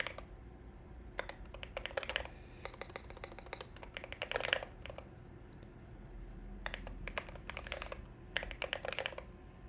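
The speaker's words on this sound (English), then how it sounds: "I feel like the backspace key sounds hollow." Computer keyboard typing with a hollow-sounding backspace key, heard as close, crisp bursts of rapid keystrokes separated by short pauses, with no talking.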